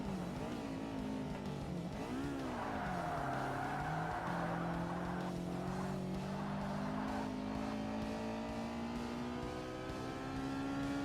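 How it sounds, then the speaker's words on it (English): An LMP3 race car with a Nissan VK56 V8 in Forza Motorsport revs and shifts through gears, the engine note rising, dipping and climbing again with some tire squeal, loud and continuous. "the LMP3 has a VK56, and it sounds nasty"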